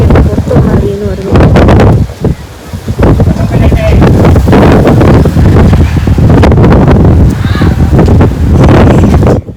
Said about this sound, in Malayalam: നല്ല അടിപൊളി കാറ്റടിക്കുന്നുണ്ടായിരുന്നു